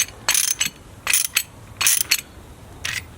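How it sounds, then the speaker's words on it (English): A PCL tyre inflation adapter is tightened by hand in short bursts of metallic clicking and ratcheting, four close, crisp clusters separated by brief pauses, with no talk. "we can attach our adapter onto there, and we just want to tighten it up"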